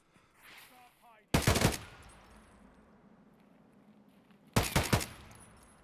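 Two loud, rapid bursts of automatic gunfire crack out in Escape from Tarkov, a few seconds apart, each a tight string of sharp shots over a quiet, faintly murmuring background.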